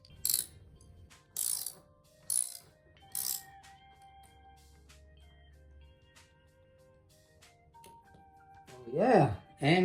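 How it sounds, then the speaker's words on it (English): A hand ratchet clicks through four short, distinct bursts while a BMW F Series parking sensor is being fitted, then goes quiet before a louder rasping sound near the end. "we're gonna take a ratchet."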